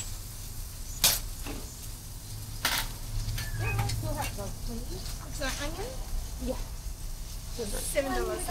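Hotdogs sizzling as they cook outside Bunnings on ANZAC Day: a soft, steady hiss runs beneath people chatting nearby, with a couple of sharp clicks.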